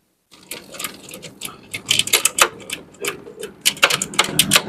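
Bajaj Discover motorcycle in gear with its rear tyre spinning, heard as a fast, uneven mechanical clatter and ticking that rises and falls in close, fairly loud bursts.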